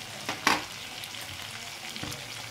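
Tomato, carrot, peas and cauliflower are stirred in a frying pan, a soft low sizzle broken by a couple of brief utensil scrapes, quiet and close with no talking.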